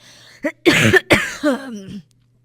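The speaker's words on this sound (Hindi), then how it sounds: "बहुत खांसी आ रही है" A short series of harsh, close coughs from an elderly woman with a cold, three or four in quick succession, with a raspy throaty quality.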